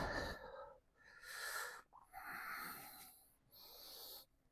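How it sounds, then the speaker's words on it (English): Deep, slow breaths during a lower-body stretching exercise, several long airy inhales and exhales in close succession, near and fairly quiet with no talking. "Deep breaths."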